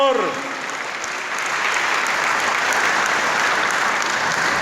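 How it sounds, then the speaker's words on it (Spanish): A church congregation claps together in sustained, dense applause that swells and holds steady, loud and close throughout. "Déselo a él el aplauso"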